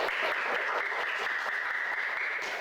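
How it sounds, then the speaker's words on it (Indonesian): Classmates clap for a student group in a classroom, a continuous even wash of many hands at moderate level, unbroken and without talk. "beri tepuk tangan untuk kelompok mana"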